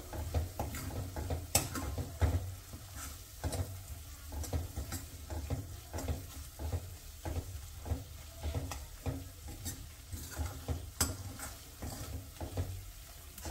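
Spices sautéed in oil for dal, a continuous sizzle broken by regular, rhythmic scrapes and taps of a spoon against the pan, close and moderately loud, with no talking.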